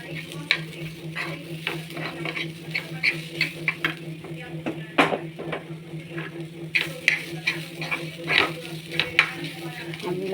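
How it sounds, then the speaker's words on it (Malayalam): Dried fish chutney ingredients with chilli powder roast in a pan, giving a soft continuous sizzle broken by repeated scraping and stirring strokes and small clinks, close and fairly quiet over a low hum. "നന്നായിട്ട് വറുക്കാം."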